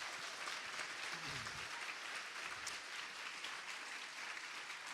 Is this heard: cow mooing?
no